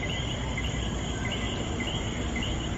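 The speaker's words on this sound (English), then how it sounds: "you're gonna hear some noises at night with crickets and coquis" Crickets chirp steadily at night in Puerto Rico, a dense high insect trill running continuously over a constant wash of other night creatures, moderately loud and with no voices.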